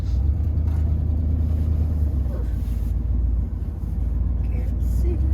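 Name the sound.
vehicle being driven over hills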